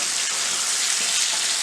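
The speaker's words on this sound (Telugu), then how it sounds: "కొంచెం సిమ్లోనో మీడియం ఫ్లేమ్లోనో పెట్టుకొని బాగా ఫ్రై చేసుకోవాలి చికెన్" Chicken frying in a pan over a medium flame, a steady broadband sizzle that holds evenly loud and close throughout with no voices.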